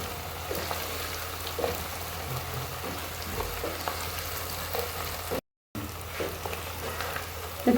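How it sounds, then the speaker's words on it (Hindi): Mixed vegetables with garlic and ginger fry in a hot pan, giving a steady, close sizzle that runs throughout with faint stirring crackles and no talking. "हम इसको पकाएंगे इसकी रंगत आने तक।"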